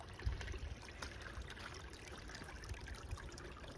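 Small shallow creek beside a forest hiking trail, a faint, steady trickle of water running over stones, heard alone with no voices.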